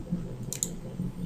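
A computer mouse clicks a couple of times, quick sharp taps close by against a faint hum of the room.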